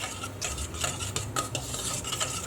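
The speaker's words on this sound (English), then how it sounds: "And I'll just give that a mix in there" A spoon stirs couscous into hot vegetable stock in a bowl, making close, busy scraping and clicking sounds with no voices.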